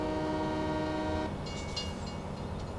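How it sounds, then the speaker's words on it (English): Train in the Farming Simulator 17 game rolling steadily with a dense, continuous rumble, a sustained horn-like drone at first that gives way to hissing, clanking rail noise, loud and close. "So it's just a train."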